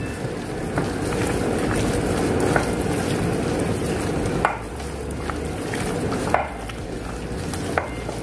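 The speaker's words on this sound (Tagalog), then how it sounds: "Tapos haluin lang po natin." A spoon works through a chicken fillet marinade with chili powder and salt, a continuous wet scraping and swishing with a few light clinks against the bowl, fairly quiet and close, no voices.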